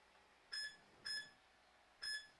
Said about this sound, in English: Oh, that's my timer going off.